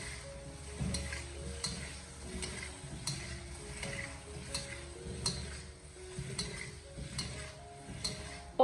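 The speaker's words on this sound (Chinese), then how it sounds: "然后再立刻马上的用锅铲进行翻炒起来，把它翻炒均匀，让每一个鸡小腿都可以裹上焦糖色" Chicken drumsticks stir-fried with a spatula in caramelized sugar in a wok, heard as steady sizzling with regular scraping strokes of the spatula against the pan.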